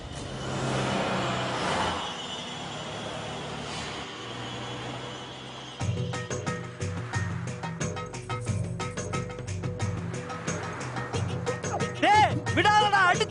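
A car driven fast in a Tamil film scene, its engine revving and roaring steadily with shifting pitch, close and fairly loud, while voices shout and talk over it.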